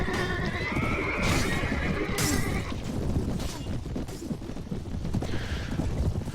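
Horses neigh and whinny in a Warband Clash of Kings mod battle, loud and close over a constant roar of combat. Hooves clatter beneath the calls, with crashes and impacts scattered throughout.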